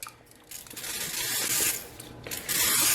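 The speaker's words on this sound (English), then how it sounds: "I'm going to give my pan a spray" A few short hissing bursts of an oil mister spraying onto a pan, with faint kitchen clatter in between.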